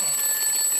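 An alarm clock going off before dawn with a steady, piercing electronic tone, loud and continuous through the short moment.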